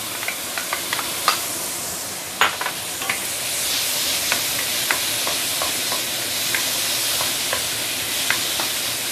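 Tomato puree hitting curry paste sautéing in a pan, giving a steady close sizzle and hiss with scattered sharp crackles and pops throughout, no voices.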